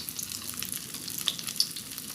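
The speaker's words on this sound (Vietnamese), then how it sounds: "Thì các bạn chiên như thế cho đến hết cái dĩa sườn của mình nha" Vegan mock ribs for a honey-glazed dish fry in hot oil, giving a soft, steady sizzle dotted with a few small crackles and pops, close by and without speech.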